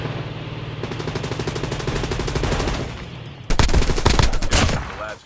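Rapid automatic gunfire in the mobile shooter Call of Duty: Mobile, a steady stream of shots under game ambience that turns into a louder, denser burst of fire partway through.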